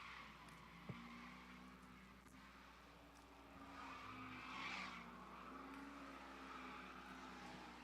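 A Ford Mustang drifting at a drift event, tires skidding and squealing in a long steady screech over engine drone, moderately distant with no talk.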